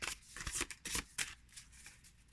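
Plastic-coated tarot cards riffled in an overhand shuffle, a run of soft crisp flutters and slaps in irregular bursts, close and alone with no talk.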